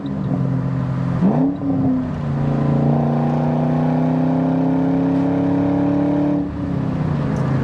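A 1998 Ford SVT Cobra on a mostly stock exhaust with aftermarket mufflers and tailpipes runs loud and close, with a blip of revs, then a long steady drone that drops away near the end.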